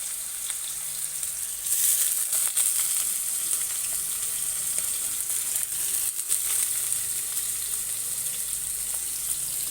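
Potato pieces fry in hot oil in a pan while chowmein is being made, giving a continuous close sizzle with occasional stirring scrapes and no talk.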